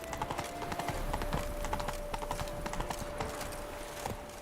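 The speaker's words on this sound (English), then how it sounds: "Run, Roach." Horse hooves clip-clopping at a steady galloping pace in The Witcher 3, a fairly quiet rhythmic patter under a constant tonal game background hum.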